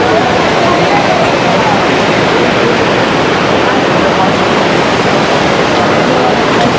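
Mountain stream water rushing beside the Yamunotri trek path, a steady, dense, loud roar of flowing water throughout with no break.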